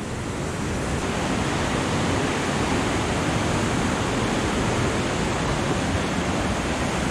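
Flash flood water rushes down a desert gorge on Klein Pella, a loud, steady broadband roar that runs unbroken throughout with no voices.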